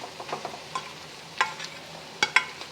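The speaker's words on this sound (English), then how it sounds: "I am adding about 4 to 5 cups of leftover rice." Cold leftover rice frying with bacon, onion and garlic: a spatula scrapes and stirs in quick, irregular strokes over a soft, steady sizzle, with no voices.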